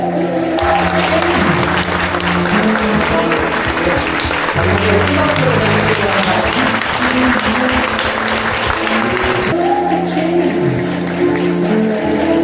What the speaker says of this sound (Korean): 박수 보내주시길 바랍니다